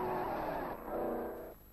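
A 1930s Alfa Romeo race car rounds the carousel curve, its engine a loud, continuous roar with a brief scrub of tire squeal, close and steady before easing slightly toward the end.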